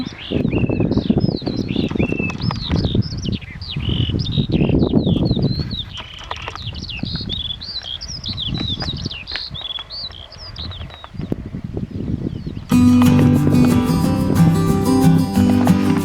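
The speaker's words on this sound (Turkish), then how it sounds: "Kuş seslerinin güzelliği." Many birds chirp and trill outdoors at a picnic in overlapping, busy calls over a low rumbling background, and music abruptly starts near the end.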